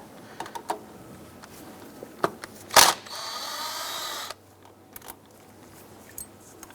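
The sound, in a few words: 10mm socket loosening serpentine belt bracket on Subaru Outback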